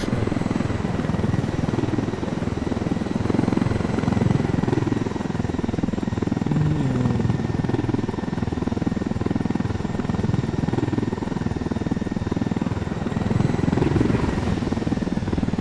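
Continuous loud helicopter rotor thumping and engine drone from the video game Tom Clancy's Ghost Recon Wildlands, steady throughout with no pauses or voices.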